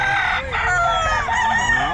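Several roosters crow loudly and close together over a busy market din at a Bocaue pet market, overlapping calls filling the whole stretch with clucking fowl mixed in.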